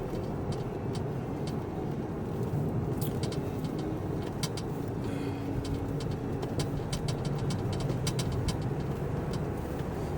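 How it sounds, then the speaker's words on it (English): Car driving along a road near Edinburgh and Falkirk in Scotland, heard from inside as a steady, loud low rumble of engine and tyre noise with faint intermittent ticks and clicks over it. "So this is me, I'm driving like normally"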